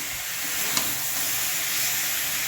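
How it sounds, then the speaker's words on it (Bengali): Boiled vegetables stirred into chillies, bay leaf and lentil nuggets frying in a wok, giving a steady sizzle with faint stirring scrapes throughout, alone and close. "দিয়ে ভালো করে নেড়ে নেব"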